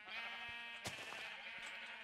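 A single blocky Minecraft sheep, the rainbow Jeb sheep, gives a clear wavering bleat close up and alone, with a short sharp click near the middle.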